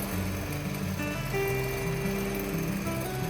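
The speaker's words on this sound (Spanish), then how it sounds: "Empezamos a batir con una velocidad baja" An electric mixer runs steadily at low speed, beating egg whites with a pinch of salt. The motor gives a continuous, even whirring hum that holds close and moderately loud throughout.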